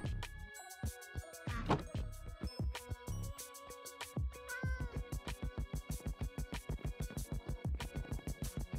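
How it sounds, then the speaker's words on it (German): A cat meows inside a house in the video game Minecraft, several drawn-out calls standing out over a steady, rhythmic game soundtrack that pulses beneath it. "Oh, hier ist eine Katze mit drin im Haus."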